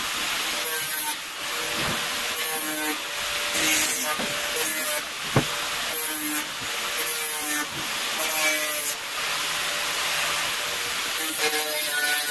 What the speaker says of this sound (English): now I'm going to go down to an 80 grit to give them a nice smooth polish, and then I'll dust over the entire surface with the 80 grit